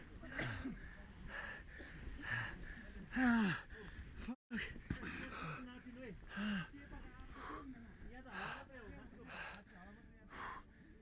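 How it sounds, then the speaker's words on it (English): Climbers on a mountain cough and gasp for air, ragged breathing, snorts and wheezes repeating through the whole stretch with a brief dropout midway, close and moderately loud. "The men cough and gasp for air."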